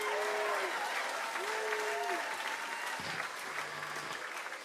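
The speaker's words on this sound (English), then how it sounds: "Keep that round of applause going" An audience at a band competition applauds steadily throughout, a dense wash of clapping under which someone speaks briefly.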